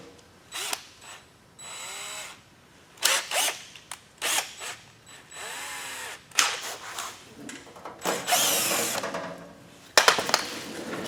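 A power drill backs screws out of a metal scissor lift cover: several whirring bursts up close with clicks and rattles between them and a longer grinding run near the end.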